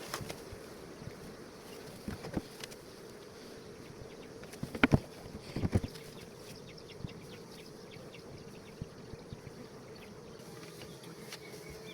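Honeybees buzz steadily around a queen bee held in a queen isolator cage, a soft continuous hum with scattered faint clicks and a couple of brief louder knocks near the middle.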